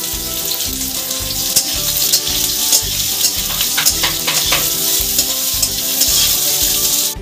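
Three chopped onions frying with whole spices in hot oil, a loud, constant bright sizzle with bursts of crackle and occasional stirring, close up and without any voices.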